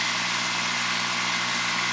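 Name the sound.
small lightweight tractor engine idling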